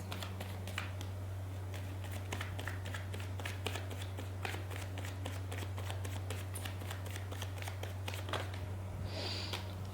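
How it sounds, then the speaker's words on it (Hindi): Tarot cards being shuffled, heard as soft papery ticks and flicks over a steady low electrical hum in a quiet room, faint and close, with no speech. "Let me shuffle these cards."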